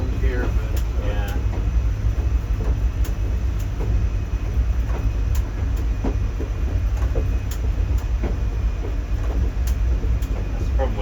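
A train heard from inside the cab: steady low rumble and wheel noise with periodic clicks of rail joints over a constant high whine. People talk under the running noise.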